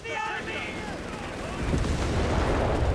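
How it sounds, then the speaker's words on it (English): Artillery strike explosions in Company of Heroes 3, with heavy rumbling blasts swelling louder toward the end beneath a commentator's voice. "And now we got an artillery strike here for Momo."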